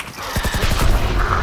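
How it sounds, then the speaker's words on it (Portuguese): A quick burst of rapid gunfire in Valorant on the map Breeze, several sharp shots in fast succession over a background of game-like ambience. "Disparos em mim."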